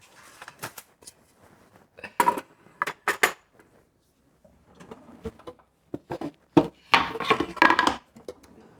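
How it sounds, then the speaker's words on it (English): A wooden IKEA chopping board and kitchenware are handled in a home kitchen, giving irregular clatters and knocks of wood and utensils in short scattered bursts, close and fairly loud, with quiet gaps between. "This is too small a chopping board."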